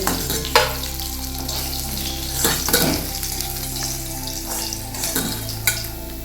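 Pieces of katla fish fry in hot oil in a pan, a close, loud, steady sizzle punctuated by a few sharper bursts as they are turned and stirred.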